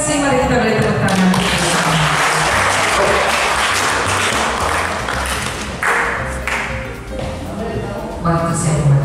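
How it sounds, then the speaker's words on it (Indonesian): Applause from an audience at a local-wisdom culture session during a treasury capacity-building event in Merauke, a dense steady clapping that fills the whole stretch and stays loud, with faint voices mixed in underneath. "Mari kita beri tepuk tangan"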